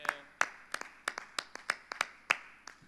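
A church congregation claps in praise at an evening Sunday service, roughly ten sharp claps in a steady, even rhythm, fairly faint, with no voices over them.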